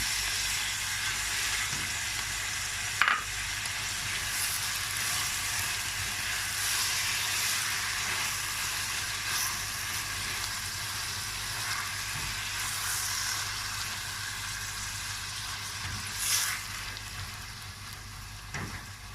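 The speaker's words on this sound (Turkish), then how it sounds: "Domateslerim de biraz kavrulacak" Diced tomatoes sizzle steadily in olive oil in a pan, a soft continuous crackle with a few scraping stirs and light knocks; no one speaks.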